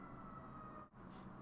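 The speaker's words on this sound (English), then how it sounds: "There's always noise and sirens and police and fire coming" Emergency vehicle sirens wail faintly on a San Francisco street, a steady distant tone that drops out briefly for a moment before resuming, alone without talking.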